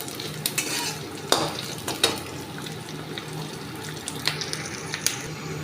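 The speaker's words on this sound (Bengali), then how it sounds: "দেখুন পেঁয়াজটাও একটু আমি লাল করে ভাজবো।" Chopped onion frying in a pan for a home-style lentil dish, a steady low sizzle with scattered sharp scrapes and clinks of stirring, close and moderately loud, with no voices.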